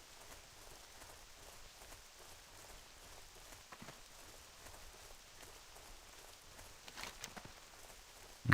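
Steady, faint rain hiss falls on a surface in World of Warcraft Classic Cataclysm, carrying evenly throughout with a few scattered taps and a louder knock at the very end.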